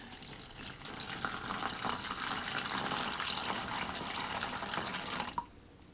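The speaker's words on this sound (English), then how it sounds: "we just fill it with water up to the water line" Tap water runs steadily into a Kraft macaroni and cheese microwave container, a continuous splashing fill that is loud and close, then cuts off abruptly near the end.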